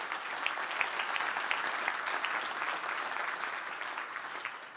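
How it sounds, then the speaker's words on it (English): An audience at a community report event claps for its community partners, a dense, steady round of applause at moderate distance that carries evenly before easing off slightly at the end. "that that deserves a round of applause, too, to our community partners"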